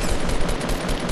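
Rapid automatic gunfire from a Fortnite match, a loud continuous burst of shots packed tightly together with no pauses for the whole moment.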